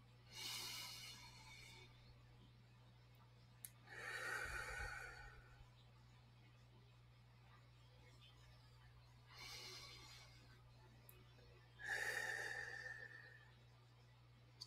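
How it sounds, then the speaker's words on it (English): Slow, deep breaths drawn during a guided meditation, four soft inhale-and-exhale swells spaced several seconds apart over a faint steady hum, close and quiet. "We will start with a few slow,"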